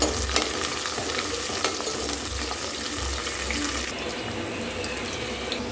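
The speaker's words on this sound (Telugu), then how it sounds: "ఆయిల్ వేసుకొని గరం మసాలా దినుసులు వేసుకోవాలి తర్వాత ఆనియన్ వేసుకోవాలి ఆనియన్ వేసుకొని కలుపుకోవాలి" Onions and whole garam masala spices frying in oil for chicken fry, a steady close sizzle with occasional stirring scrapes throughout, no voices.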